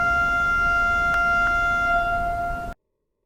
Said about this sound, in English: So a short pipe like this one will make a high-pitched noise like this.